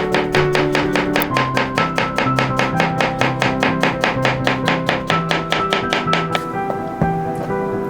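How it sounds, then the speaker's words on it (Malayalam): Knife slicing a quarter cucumber on a cutting board for pork gyros, a steady fast run of crisp, evenly spaced taps, close and clear with no talking. "കുക്കുംബറിന്റെ 1/4 ഭാഗം നന്നായി സ്ലൈസ് ചെയ്തെടുക്കുക."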